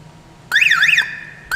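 A cheap aftermarket car alarm siren set off by its remote panic button blares loudly and close, one warbling whooping cycle followed by a steady tone, then the next burst starting.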